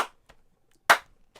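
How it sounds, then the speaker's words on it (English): A sharp single clap stands out at the end of a quiet live stream, preceded by a faint tap and followed by a softer one. "And clap."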